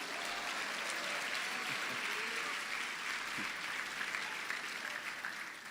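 A church congregation applauds in praise, broad continuous clapping filling the room at a moderate distance, with faint voices and cheers mixed in underneath.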